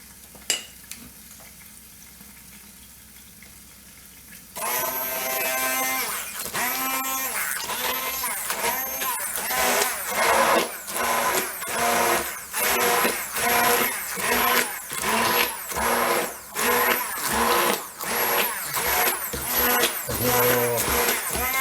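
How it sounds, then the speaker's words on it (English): A quiet start gives way to a loud motorized whirring that pulses in repeated bursts as the immersion blender dips in and out of thick, chunky apple sauce. "I'll hit a little bit with my immersion blender."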